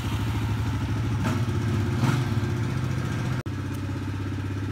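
Quad bike engine running after a start on a Russian workbench setup, a steady close mechanical putter with rhythmic low pulses and light clatter, one brief dropout near the end.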